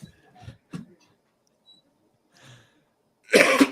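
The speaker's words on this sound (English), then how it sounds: "Got a bad cough." A man coughs in a courtroom during a live bond hearing: a harsh, loud burst near the end, preceded by a few faint clicks, small noises and quiet stretches.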